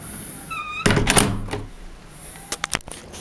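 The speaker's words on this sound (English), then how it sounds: "That's the latch." An Ingersoll SC71 night latch with Mul-T-Lock cylinder engages as the door shuts, a solid thunk and rattle followed moments later by a quick cluster of sharp metallic clicks, close and alone.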